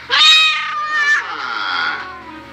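A cat meows in a long, drawn-out, high wavering cry that rises and then trails off, loud and close, with a second softer meow following.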